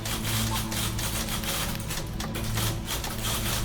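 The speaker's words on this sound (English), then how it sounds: "Please stop typing or whatever you're doing." Continuous rapid keyboard typing in the video game The Beginner's Guide clatters on without pause, a dense, even patter of keystrokes close up.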